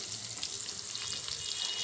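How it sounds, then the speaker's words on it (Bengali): Dried chillies frying in hot oil in a pan give a steady, bright sizzle with light crackles, continuous and close throughout. "শুকনো মরিচগুলো আমি খুব সুন্দর করে ভেজে নিচ্ছি"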